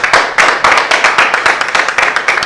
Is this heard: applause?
yes